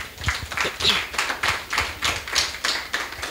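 Audience applause at a French lecture on the sociology of artificial intelligence, a steady run of dense overlapping claps close by, lasting the full few seconds without talk.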